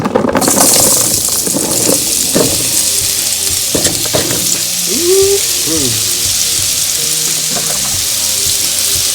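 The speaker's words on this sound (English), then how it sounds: "we got some olive oil in our pan, all heated up. And let's go ahead and add these sweet potatoes." Sweet potatoes frying in hot olive oil in a pan, a steady loud sizzle running throughout with brief clatters and scraping as the pieces land and shift.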